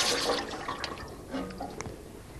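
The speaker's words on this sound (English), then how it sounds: "I will put this in water and bring it back up again." A hot brazed copper workpiece, freshly worked with a Henrob Cobra 2000 welding torch, is dunked into water, giving a brief splash and watery gurgle at close range with no talk.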